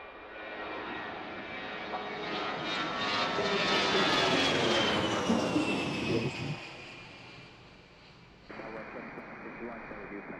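A jet airliner departing Washington Reagan National Airport roars past, swelling to a loud peak midway and then fading into the distance, with voices audible under the engine noise.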